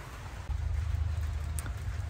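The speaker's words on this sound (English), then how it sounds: "it just started raining pretty hard" Hard rain pattering down outdoors where horses are kept, a dense continuous wash of drops with a low rumble beneath, no talking.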